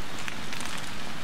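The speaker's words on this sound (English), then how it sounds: "Let's just listen to the sounds of rain." Steady rain falling in the horror video game Haunted Memories, a dense, even hiss with soft patter, close and continuous with no voices.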